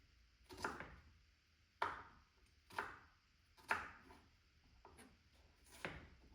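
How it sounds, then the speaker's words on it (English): Red onions being chopped for a broth on a cutting board, about seven separate knife strikes in an uneven rhythm, close and fairly quiet, with no talking. "You don't have to be meticulous about how you're chopping this."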